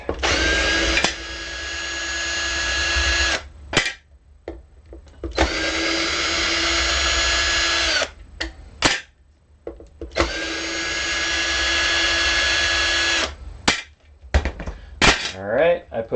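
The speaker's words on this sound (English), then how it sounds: "I will then flip the guitar over, drill in reverse" A power drill run in reverse whirs in three long bursts of several seconds each, removing an electric guitar's neck screws, separated by short clicks and handling noises, loud and close.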